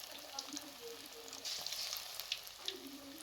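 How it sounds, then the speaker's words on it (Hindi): Vegetable pakoras deep-fry in hot oil in a kadai over a medium flame, giving a steady, close crackling sizzle with bubbling pops throughout. "जैसे ही ऑयल गर्म हो जाए तो इसके अंदर पकोड़ों को इस तरीके से फ्राई कर लें।"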